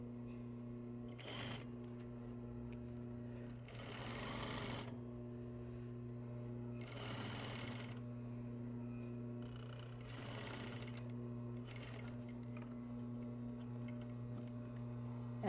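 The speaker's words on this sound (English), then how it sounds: "Now I'm going to do my second row of gathering stitches at 3/4 inch." A sewing machine runs a row of gathering stitches on apparel fabric, with short bursts of close, buzzing, rapid stitching over a steady motor hum and pauses in between.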